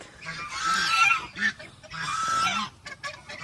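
Loud, nasal geese honking in two long clamorous bursts with a short break between, several birds calling at once, close by.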